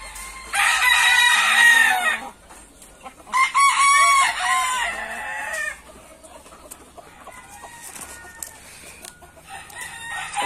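A rooster crows loudly and close in two long bursts while chickens cluck and squawk in between, the yard otherwise quiet with scattered softer clucks toward the end.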